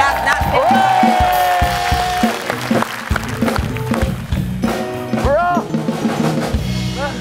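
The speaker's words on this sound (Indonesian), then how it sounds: "Tepuk tangan Indra Primawan." Studio audience applause and cheering greet a guest on a comedy talk show, a loud, full crowd wash mixed with whoops and overlapping voices throughout.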